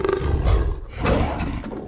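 Movie leprechaun creature growls like a lion, a couple of deep, rumbling roars in quick succession, loud and close with no talking.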